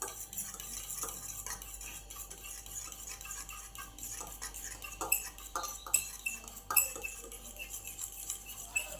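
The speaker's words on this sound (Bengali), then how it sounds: "অনেকক্ষণ ধরে সুন্দর করে ফেটে নিতে হবে, তবেই ডিমের অমলেটটা ফ্লাফি হবে" Eggs with chilli and salt are beaten for a masala omelette, a fork or whisk clinking quickly and irregularly against the bowl, light and close, growing busier toward the end.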